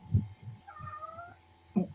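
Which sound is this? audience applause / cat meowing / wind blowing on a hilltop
cat meowing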